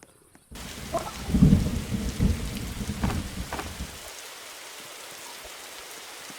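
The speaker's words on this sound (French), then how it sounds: "il y a du tonnerre." Thunder rumbles and rain pours in the survival video game 99 Nights in the Forest, a loud rolling crack swelling and fading over a few seconds, leaving steady rain hiss alone afterward.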